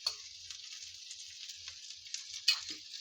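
Seer fish frying in oil with curry leaves gives off a steady, soft sizzling hiss that runs throughout, with a small pop or clink near the end and no talking.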